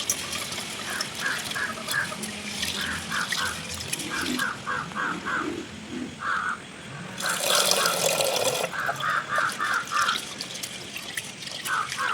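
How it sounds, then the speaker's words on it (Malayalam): Water sloshing and trickling as sago pearls are washed by hand, with a crow cawing repeatedly in the background. "നമ്മളിപ്പോൾ 2 വെള്ളം കഴുകി എടുത്തിട്ടുണ്ട്"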